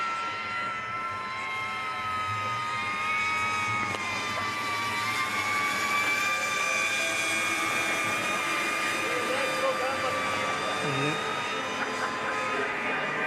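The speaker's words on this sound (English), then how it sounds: "Familiar noise of the drone" Camera drone flying over a para alpine downhill ski course in Milano, a steady whining engine-like drone with sustained tonal harmonics holding throughout, fairly loud and continuous.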